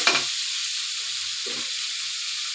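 Diced potatoes and lentils fry with a little turmeric in a pan, giving a steady hiss and sizzle with a couple of soft stirring scrapes near the start and middle.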